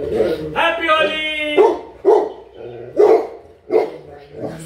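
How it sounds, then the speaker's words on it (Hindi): A Labrador barks during a Holi celebration: a drawn-out, howl-like bark followed by a run of short, loud barks close by, with people talking and singing around it. "सिम्बा भी भौंक रहे हैं आज तो।"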